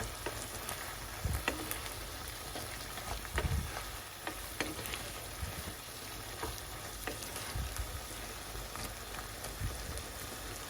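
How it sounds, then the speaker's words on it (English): Food simmering in a pan on medium heat gives a faint, steady sizzle and crackle with a few soft stirring bumps. "Okay, let this simmer."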